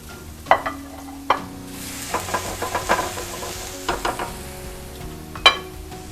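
Garlic sizzling in hot oil in a hot pan, a close, steady frying hiss punctuated by a few sharp utensil clinks against the pan.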